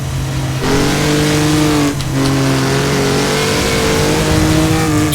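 A Maserati 250F racing car in Assetto Corsa revs hard close up, its engine note climbing, dipping for a gear change, then rising again over a steady drone.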